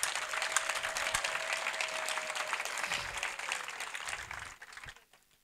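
Applause from a church congregation for a PhD student, dense steady clapping that fades out near the end.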